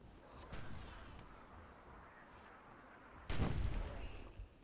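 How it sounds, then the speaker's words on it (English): An explosion goes off in the Myth II: Soulblighter strategy game during a mortar exchange, a heavy boom rising from a low rumbling battle bed with scattered smaller blasts around it. "Oh, we got an explosion there."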